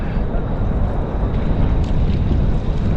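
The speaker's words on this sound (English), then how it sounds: "All right, I got gale force wind here." Gale-force wind roaring over the microphone while paddling a punt down river rapids, a loud, constant low rushing that fills the whole stretch with no talking.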